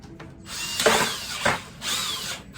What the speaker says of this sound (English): this is what I used to grind it or shred it. Use a drill.